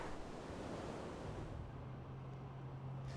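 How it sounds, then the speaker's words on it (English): Ocean surf at a surfing beach rolls in as a broad, steady roar of breaking waves, loud and close, mixed with wind rumbling against the microphone and a low drone that builds in the second half. "these waves look like a lot of fun"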